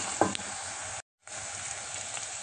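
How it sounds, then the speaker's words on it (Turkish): Tomato paste frying in a pan with chickpea-and-meat stew ingredients, giving a steady close sizzle with a brief stir and a short gap partway through, with no talking. "bir yemek kaşığı dolusu salçamızı da kavuralım diğer malzemelerimizle"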